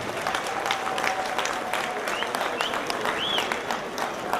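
A crowd at a Kenya Madaraka Day event applauds itself, with steady clapping and faint cheers and voices mixed in throughout.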